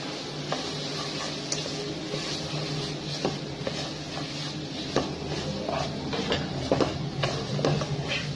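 Raw mango murabba with turmeric and sugar is stirred in a pot, a steady scraping and clinking of spoon against metal with soft sizzling underneath, continuous and close.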